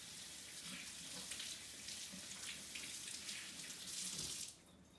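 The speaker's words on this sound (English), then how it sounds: "So rinse those off." Hands rinsed under a running kitchen tap, a steady hiss of water splashing into the sink that continues evenly and cuts off near the end.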